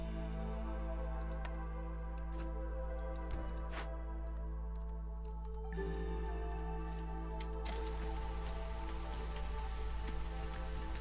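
Steady rain from a drizzle geyser in the video game Against the Storm, a continuous patter with scattered individual drops and light ticks, at moderate level with no voices.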